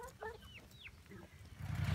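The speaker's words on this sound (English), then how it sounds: "Did you hear that crowing?" Polish chicken on a homestead giving short rising crowing and clucking calls, a few quick bursts close by over a rumbling background that grows louder toward the end.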